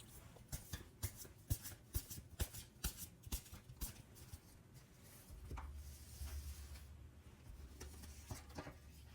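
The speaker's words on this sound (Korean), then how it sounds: "여러분과 그 사람의 관계에서 필요한 조언 카드 한번 뽑아보도록 할게요" Tarot cards are shuffled in a rapid series of soft riffling taps, then a card is drawn and handled with quieter rustling, all faint and close.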